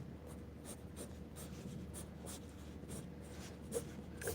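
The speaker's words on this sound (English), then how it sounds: "you can go in and really beef up the lines. Make them darker." A pencil scratching over paper while lines are drawn and darkened, with a steady run of soft, close, rhythmic strokes and scrapes.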